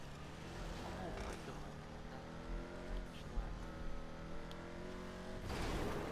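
An arena vehicle in the GTA V video game rumbles along with a steady engine drone that rises and falls in pitch, with a few thumps and a louder surge at the end.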